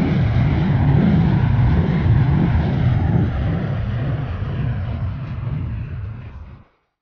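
Steady, loud roar of a simulated McDonnell Douglas DC-9-32 jet rolling out after landing, a broad rumbling wash that holds for several seconds, then gradually thins and stops abruptly.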